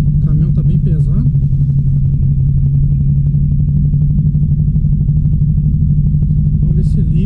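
The dual-carbureted, alcohol-fuelled VW Beetle engine idles slightly fast as a continuous close, loud rumble with a light clattery edge, and people talk briefly near the beginning and end.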